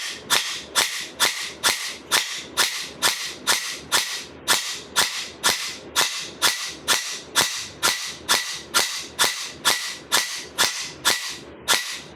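AK Storm gel blaster firing on automatic, a long run of sharp, evenly spaced snapping shots at a steady rapid rhythm, close and fairly loud, with no talking.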